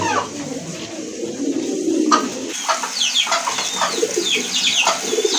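Iranian pigeons coo and murmur in a loft, soft repeated throaty calls overlapping one another, with rustling and other bird chatter nearby.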